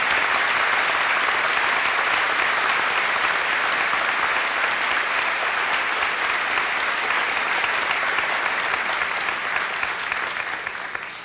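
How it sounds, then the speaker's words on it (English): At a 1990 university convocation, an audience gives a long, sustained round of applause for award recipients: dense, even clapping from a large crowd that holds steady for the whole stretch and fades slightly at the end. "perhaps we could have a round of applause for those who have already received their awards"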